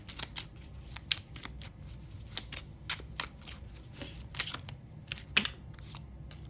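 Toltec agreements oracle cards are shuffled and drawn by hand in a dry, uneven run of soft papery flicks and taps over a faint steady background hum, with no talking.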